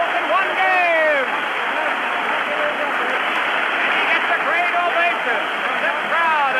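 Hockey crowd at the Philadelphia Spectrum roaring after a record-tying sixth goal in a 1968-69 St. Louis Blues game, a dense sustained din with whistles and shouts, broadcast-quality and slightly muffled, with a commentator's voice riding over it.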